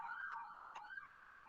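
A siren passes outside, a wavering tone sounding faint and distant with no voices over it, heard during the pandemic.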